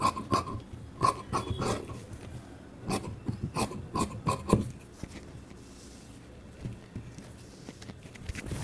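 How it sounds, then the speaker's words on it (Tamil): Scissors cut through blouse fabric in short rasping snips, several quick cuts in a row close up, then a quieter stretch with only faint rustling. "இப்போ நம்ம கொக்கிப்பட்டி சைட்லேருந்து மெட்டீரியலை கட் பண்ணிக்கலாம்."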